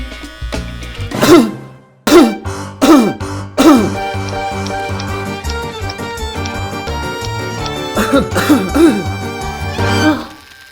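A man clears his throat and coughs several times in quick bursts, close and loud, then settles into a calmer stretch with music playing behind.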